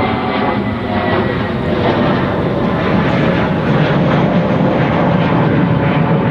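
A propeller aircraft passes overhead on a Sunday morning, one of many out flying, its steady droning engine roar loud and continuous throughout, with no voices.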